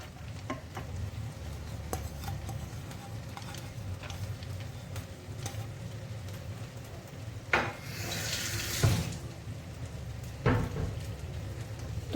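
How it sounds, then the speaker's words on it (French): Butter and finely chopped onion fry in a pan with a steady soft sizzle, broken by a few louder bursts of stirring and scraping nearby. "Donc je fais fondre le beurre tout en faisant cuire les oignons."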